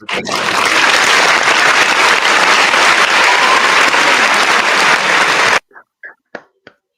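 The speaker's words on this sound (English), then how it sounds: "I'm in on the applause." A crowd claps loudly and continuously for more than five seconds. The applause then stops abruptly, leaving a few faint, separate claps in near silence.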